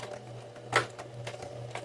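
A sewing machine stitches slowly back and forth over a zipper's teeth, a soft rhythmic whirring with light ticking stitches and one sharper click midway, sewing a Dresden-pattern zippered pouch.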